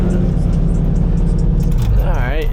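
A Nissan S15 fitted with throttle bodies idles loud and steady at close range, its engine rumbling evenly, then a rising whine comes in near the end.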